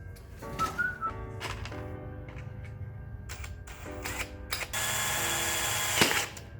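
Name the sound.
drilling a hole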